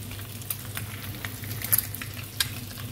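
Turmeric curry powder fries in a pan with a low, steady sizzle broken by light scraping stirs and small crackles, close and fairly quiet, no talking.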